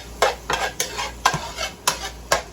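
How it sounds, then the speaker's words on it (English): Ground turkey sautéing in a pan, heard as about six rhythmic scraping strokes of a utensil stirring the meat, close and moderately loud over a faint background sizzle. "we're going to saute this until it's done and you don't see any pink"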